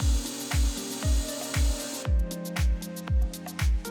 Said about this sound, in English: partially drive in the mounting screws